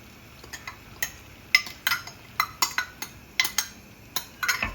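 Wild-vegetable paste from seven foraged greens is scraped into a clay kadhai, giving a series of sharp spoon-on-pot clinks and knocks in an irregular rhythm, close and moderately loud, with no talking.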